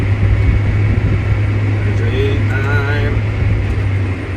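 A tractor pulling a disk harrow across a field, its engine a loud, steady, low drone with a constant hum that holds throughout, close and continuous.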